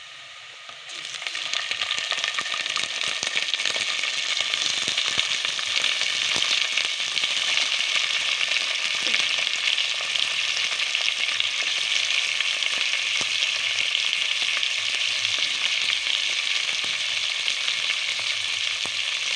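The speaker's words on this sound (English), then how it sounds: "The onions are ready. I'm now going to add the tomatoes." Tomatoes go into frying onions in a non-stick pan for a beef wet fry: a steady, loud, close sizzle with a fine crackle that holds evenly throughout, and no voices.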